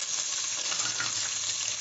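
Chopped onion and garlic frying in hot oil in an open cooking pot, a steady dense sizzle holding close and even throughout with no talk.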